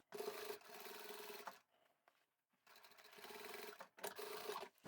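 A sewing machine topstitches a bag seam closed, two steady runs of whirring stitching, each about one and a half seconds, separated by a quiet pause, fairly faint and close.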